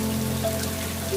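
Heavy rain falls in a cartoon forest, a dense, steady hiss of raindrops on surfaces throughout, with faint tonal music underneath.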